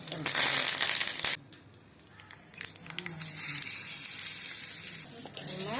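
Mustard seeds, urad dal and dried chilies hit hot oil for a tempering, bursting into a bright loud sizzle that drops away for a moment, then returns with crackles and a steady frying hiss, close by.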